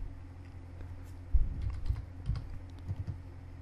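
Soft, scattered keystrokes on a computer keyboard while entering a search on a PC, a few quiet taps clustered in short bursts over a low background hum.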